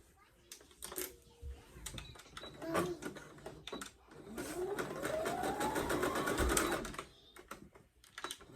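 A sewing machine stitches bodysuit fabric up close in quick, rattling bursts, with a longer steady run of needle chatter near the end and brief pauses between.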